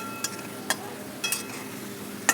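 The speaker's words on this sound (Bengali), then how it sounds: "পেঁয়াজটা এবার আমি আবারও ভেজে নিচ্ছি" Onions frying in oil as they are stirred, giving a soft continuous sizzle punctuated by a few sharp metallic scrapes of a spoon against the pan, close by and fairly quiet.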